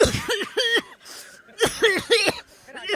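A few harsh, voiced coughs in short bursts, sounding close and fairly loud, with pauses between them.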